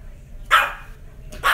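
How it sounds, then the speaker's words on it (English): A dog named Sophie barks twice, each a short, loud bark close by, about a second apart, with near silence between them. "Stop barking, Sophie."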